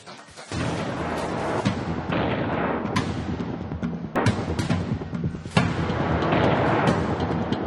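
Indian Army shelling hits a Pakistani army post during Operation Sindoor, a run of loud, rumbling artillery blasts and sharp bangs that keeps going the whole time.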